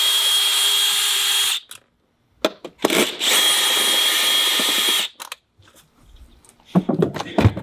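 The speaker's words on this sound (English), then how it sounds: "And it's okay to use a drill." A power drill spins out bolts on a 2020 C8 Corvette, with a steady high whine for over a second, then a longer run after a brief pause, followed by shorter bursts and light clatter.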